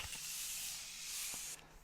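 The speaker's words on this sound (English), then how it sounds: "I'm going to set it with a little of the Morphe Continuous Setting Spray" A Morphe Continuous Setting Spray mist releases as one long, soft, close hiss lasting about a second and a half, then cuts off.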